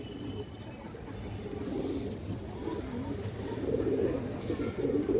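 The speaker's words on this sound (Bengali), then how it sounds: "এই দেখেন দর্শক হাই ফ্লায়ার কবুতর" A high flyer pigeon coos in low, repeated throaty murmurs close by, rising slightly toward the end over a steady background hum.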